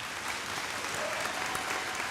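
A crowd applauds steadily at a high school athletic awards ceremony, a dense, even wash of many hands clapping at once, sustained from start to finish.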